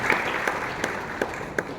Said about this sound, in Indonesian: Tepuk tangan buat ibu-ibu kita.